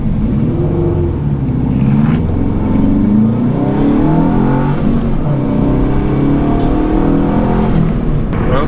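Naturally aspirated Subaru car accelerating onto the highway, a loud steady engine drone with rising harmonics as revs climb, heard from inside the cabin with road rumble throughout.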